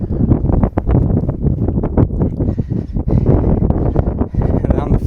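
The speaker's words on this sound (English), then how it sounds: "Man, it's windy." Strong wind buffets a microphone outdoors, loud irregular rumbling gusts that nearly drown out someone talking throughout.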